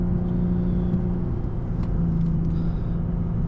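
A tuned Lexus IS350 with full bolt-ons gives a close, steady, deep engine rumble with a low droning tone that holds through the whole stretch, with no voices.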